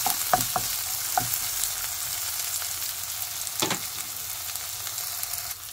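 Onions sizzle and fry in a pan for a Filipino bitter melon (ampalaya) dish, a steady close hiss broken by a few sharp spatters and stirring scrapes.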